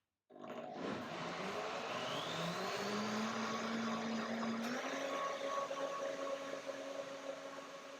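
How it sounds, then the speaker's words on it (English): A blender whirs steadily, blending tangerine cashew milk, starting abruptly and holding a loud, close motor roar with a pitch that rises and settles over several seconds. "So blend one more time to give it the final touch, to make it nice and creamy."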